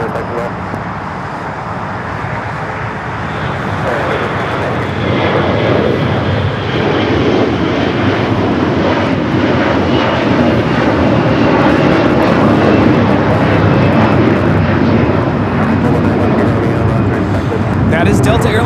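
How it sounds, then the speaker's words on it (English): Delta Airlines Airbus A321 jet taking off from LAX, a loud, steady broadband engine roar that builds and holds over the whole span, with faint voices underneath. "That is Delta Airlines 715 taking off to Atlanta on the A321"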